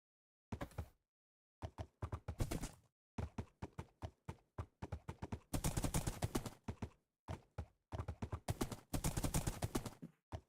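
Horse hooves clip-clop in the Minecraft-based modpack game GregTech: New Horizons, moving as a quick run of sharp, close steps that stop and start, with dense bursts of rapid hoofbeats and brief pauses.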